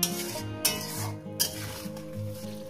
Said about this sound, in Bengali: আমি এখানে হাফ চামচের থেকে একটু বেশি লবণ দিলাম, দিয়ে এটা কষিয়ে নেবো 2 থেকে 3 মিনিট